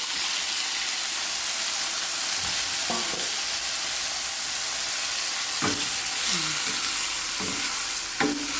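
Squid sizzles steadily in a hot pan while adobong pusit is cooked, a constant loud frying hiss broken now and then by brief scraping stirs of a utensil.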